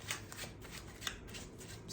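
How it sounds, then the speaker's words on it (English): A tarot deck is shuffled softly and quickly, its cards sliding and flicking in a series of light, close papery riffles with no talking. "but the deck shuffles"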